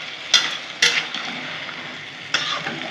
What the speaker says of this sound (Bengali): টমেটোটা দিয়ে দেবো, একটু নেড়ে চেড়ে নেব